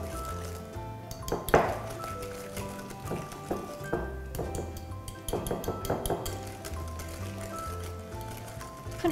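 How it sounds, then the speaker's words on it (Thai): A spoon stirs chocolate cookie cup batter in a bowl, mashing lumps of brown sugar with egg yolk, making repeated light clinks and scrapes against the bowl at a steady, close pace. "คนให้เข้ากันค่ะ พยายามบี้ก้อนน้ำตาลทรายแดงนะ"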